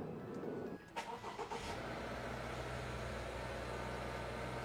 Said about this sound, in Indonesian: Kita panasin Subaru dulu lah.